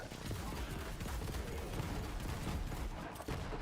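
Dense crackling grenade blasts and gunfire in Borderlands 3 with Moze, a continuous chaotic barrage of rapid pops and bursts at a loud, steady level throughout.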